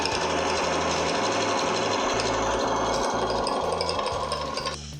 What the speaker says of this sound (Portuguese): Aqui eu já posso costurar também.